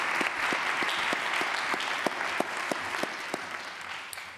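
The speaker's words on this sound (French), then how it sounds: "On peut vous applaudir." Audience applause following a session at a cancer research forum, with steady clapping from a room of attendees and a few sharper individual claps standing out, continuous throughout and fading slightly toward the end.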